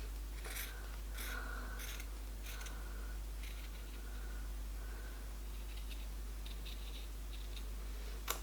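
Scissors cutting an oval shape into a cotton T-shirt, with several short snipping and fabric-rubbing bursts spaced across a quiet background hum.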